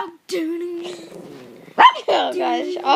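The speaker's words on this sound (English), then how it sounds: "Shut up, dog." A dog barks and whines in short bursts, with a drawn-out whimpering cry and sharper yaps later, heard close and loud with people talking.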